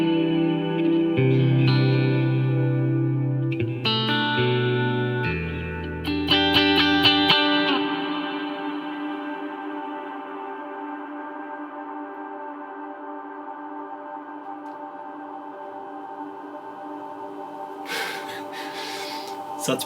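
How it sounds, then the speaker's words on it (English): A guitar played through the 80s reverb setting of a Strymon Flint reverb pedal sounds a few notes and chords, then rings out in a long, smooth, slowly fading tail lasting many seconds, ending with a brief soft noise. "Let's now try the 80s reverb."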